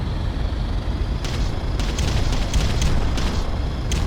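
Artillery shells from a barrage in the real-time strategy game Ground Control pound away in a dense, rumbling series of booms, with sharper bursts rising out of a continuous roar.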